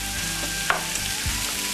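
Carrots, onions and celery sauté in butter for stuffing, giving a steady close sizzle with a few soft stirring scrapes and clicks.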